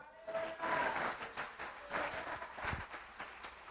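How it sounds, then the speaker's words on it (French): A church congregation applauds, a sustained wash of clapping in swelling waves from many hands, with faint voices mixed in. "Acclamez le Seigneur."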